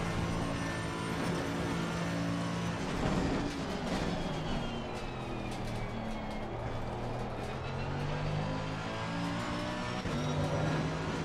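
GT race car lapping the Nordschleife in Assetto Corsa Competizione, a continuous loud engine drone rising and falling with gear shifts and throttle, up close and alone.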